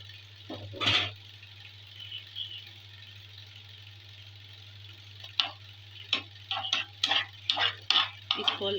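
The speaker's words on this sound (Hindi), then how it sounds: "ऑयल डाल दिए फ्राई पैन में। अब थोड़ा चिकन डालेंगे।" Chicken pieces hit hot oil in a frying pan, giving a low sizzle with a run of sharp scraping and tapping strokes from a spatula that grow busier toward the end, close up and with no talking.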